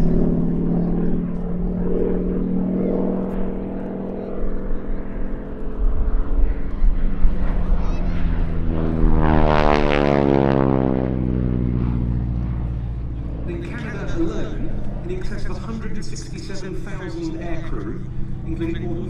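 A North American Harvard IV propeller trainer flies past at the IWM Duxford summer airshow, its engine drone swelling loud and sweeping down in pitch as it passes, under continuous commentary from an announcer.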